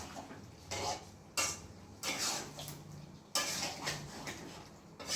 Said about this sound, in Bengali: দেখুন ঘি দিয়ে নাড়তে থাকছি।